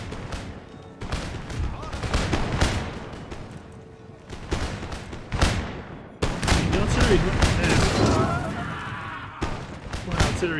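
Artillery fire in a large battle in the strategy game Empire: Total War, with repeated booming shots and crackling volleys layered over a continuous roar of battlefield din, growing heavier in the second half.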